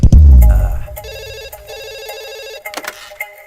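A telephone rings loudly in a Hindi comedy movie scene from Stalin, sharp electronic bursts after an opening thump, with a short pause and clatter near the end, no talk.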